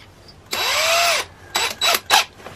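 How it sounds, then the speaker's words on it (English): A loud power drill boring a 5/16-inch hole into a maple tree whirs steadily for under a second, then several shorter bursts of drilling follow, close and clear. "we're gonna be drilling 5/16 hole"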